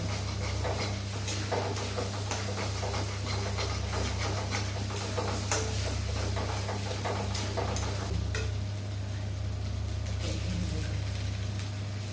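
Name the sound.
frying in a pan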